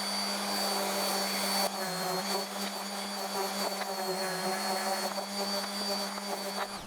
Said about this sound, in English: I'm going to use an orbital sander. I'm going to soften up those edges and on the faces a little bit too.